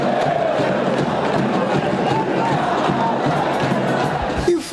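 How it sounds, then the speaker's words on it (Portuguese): Football fans singing in a stadium during a São Paulo versus Santos match, with a dense, loud, continuous roar of many voices that fills the whole stretch. "a torcida voltou a cantar"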